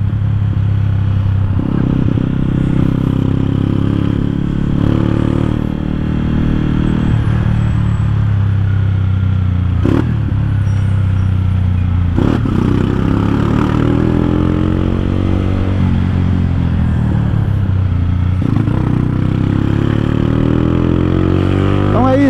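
A small stock motorcycle engine with the rev limiter disabled revs hard and repeatedly, loud and close, its pitch climbing and falling in rising sweeps with short sharp cracks, while someone talks over it.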